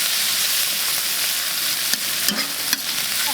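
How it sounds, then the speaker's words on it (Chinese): Chili peppers stir-frying in a wok for braised beef hooves, a steady loud sizzle with a few sharp scraping clacks of the spatula near the end. "加辣椒放进去，来炒一下，炒出辣味来。"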